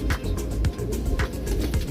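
Neel Dumbay Teddi Golden pigeons coo softly in a steady, repeating rhythm, heard close by with faint background hum.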